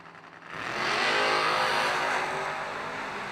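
Drag racing Camaro and S10 pickup truck at the starting line, engines swelling into a loud, sustained roar after a brief quiet opening, then holding steady with no voices.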